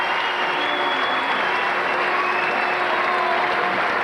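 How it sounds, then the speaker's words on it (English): Sustained applause and cheering from a packed crowd at the Apollo Stadium during a 1985 NBL basketball game between the Adelaide 36ers and Canberra Cannons, a dense steady roar throughout. "It's a big round of applause here from the packed Apollo crowd"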